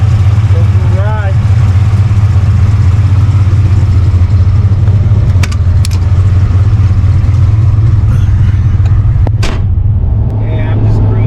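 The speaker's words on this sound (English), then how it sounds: "I'm just cruising her and seeing how the motor's reacting to this new turbo housing" A turbocharged 1000-horsepower Foxbody Mustang cruises with its engine holding a steady, loud, low drone under the cabin, and brief clicks and small road noises are heard over it.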